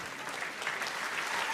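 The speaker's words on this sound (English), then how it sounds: "Round of applause for Psychic Danielle." A live theatre audience claps steadily in a dense, even wash of applause for a performer at a mind-reading stage show, with no voices over it.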